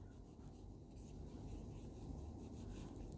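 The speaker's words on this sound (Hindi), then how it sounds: "तो सबसे पहले हम लोग जो है उसको लिखते हैं उत्पत्ति" Pen writing on paper while a maths proof is worked out, with soft continuous scratching and rubbing strokes heard close but faintly over a low background hiss.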